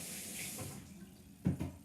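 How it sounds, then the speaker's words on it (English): A kitchen tap runs quietly while hands are washed under it, a soft steady water flow with a brief louder splash near the end. "No, just wash them with hot water. Wash them with soap."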